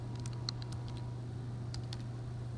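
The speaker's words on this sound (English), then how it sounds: "So when I type that in," Several light key taps sound as a calculation is entered on a calculator, a quick cluster of clicks followed by a second short group, faint over a steady electrical hum.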